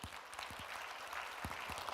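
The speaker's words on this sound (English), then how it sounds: "Applause" Audience applause following a talk at a climate change summit stage, fairly faint and even, with a few low thumps scattered through the clapping.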